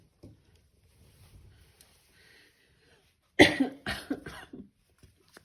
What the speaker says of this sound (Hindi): आई एम सॉरी, पता नहीं कैसे खांसी लगी